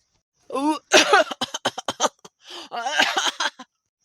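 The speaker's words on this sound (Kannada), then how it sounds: "ಈ ಹಾಳತ್ ಕೆಮ್ಮು ಕಮ್ಮಿನೇ ಆಗ್ತಿಲ್ಲ ನೋಡು" A few short, harsh coughs close by, mixed with bursts of voiced, throaty sound, like someone coughing and clearing their throat between breaths.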